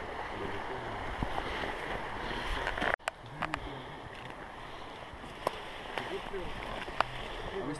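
Water rushes steadily along a river at night where a fallen birch lies in the current, a constant broadband roar close to the microphone with occasional small knocks and a sharp bump partway through.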